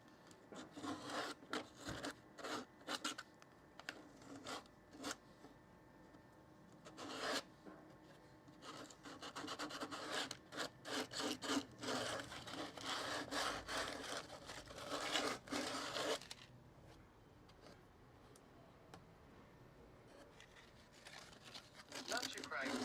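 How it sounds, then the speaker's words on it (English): Carbon fibre finish sanded by hand inside a small circle, with bursts of close, scratchy rasping strokes in an irregular rhythm, fairly faint, and someone talking between and over them. "I don't want to sand outside of the circle so it scuffs the carbon fibre look"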